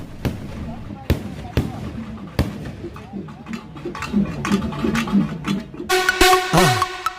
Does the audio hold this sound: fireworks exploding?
yes